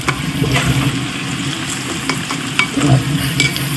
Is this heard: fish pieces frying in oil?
yes